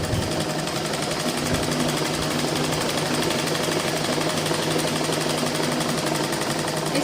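Sewing machine running steadily while stitching the hook strip onto a blouse, a continuous close mechanical whir with a rapid needle rhythm throughout, no talking.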